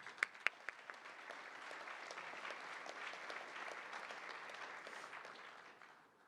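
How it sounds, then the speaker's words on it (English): Warm applause from a civic forum audience, beginning with a few sharp individual claps and swelling into a steady crowd clapping that fades out at the end, fairly distant and soft. "Please join me in a round warm of applause."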